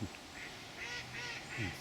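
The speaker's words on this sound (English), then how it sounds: "apart from the noise of the ducks." Faint ducks quack in a few short bursts at a distance, over a quiet outdoor background.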